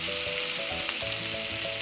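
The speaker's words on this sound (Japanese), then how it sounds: "さっき切った玉ねぎ入れていきます" Chopped onions sizzle steadily in butter and leftover meat fat in a frying pan over medium heat, a close, continuous hiss with faint crackles and no voices.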